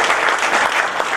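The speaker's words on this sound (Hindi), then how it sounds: "तालियां होनी चाहिए, राजकुमार डबल होनी चाहिए" Audience at a live motivational session breaking into loud, dense applause, a sustained uninterrupted roar of clapping.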